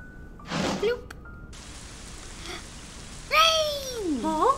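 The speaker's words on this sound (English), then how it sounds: "It started raining in the room." Indoor rain falls in the video game Ib, a steady, even hiss that starts suddenly and continues to the end, with a few brief squeaky tonal sweeps toward the close.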